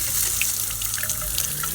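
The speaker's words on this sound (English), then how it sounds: "Now we just got to get some water and test" Water runs steadily from a newly installed RV faucet, a loud, continuous splashing stream into the sink, close up and with no voices over it.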